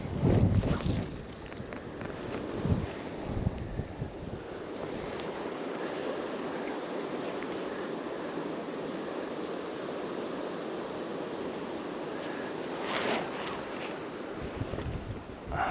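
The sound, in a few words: wind blowing on the river Dee while salmon fishing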